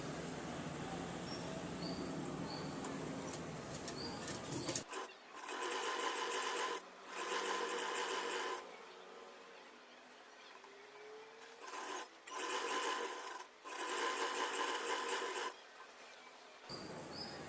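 Sewing machine stitching the lining of a blouse, a close, steady mechanical whirring in several bursts separated by short pauses, fairly quiet, with no talking.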